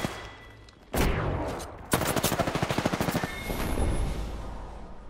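Gunfire in the battle royale shooter Apex Legends: a sharp shot, then a loud rapid automatic burst of evenly spaced rounds, followed by quieter rumbling, heard close.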